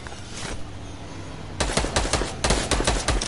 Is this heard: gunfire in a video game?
yes